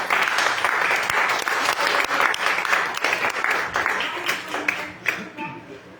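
A church congregation gives a sustained round of applause during a service, a dense wash of clapping that holds steady and then thins out near the end.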